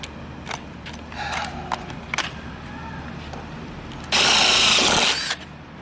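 A power drill bores 3/16-inch holes in the pillar of a Jeep XJ during a snorkel install, a loud sustained whir near the end after scattered clicks and handling knocks, with brief talk earlier.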